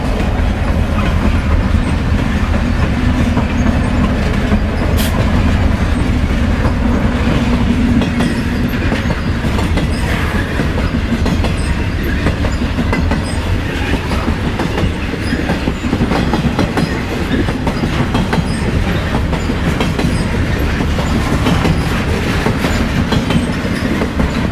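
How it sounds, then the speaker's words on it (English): A Santa Fe hotshot freight train rolls slowly west at milepost 40, giving a loud, continuous rumble with steady clickety-clack of wheels on rail joints throughout. There is a faint squeal near the start. "Train number 198, another hotshot, heads slowly west at milepost 40."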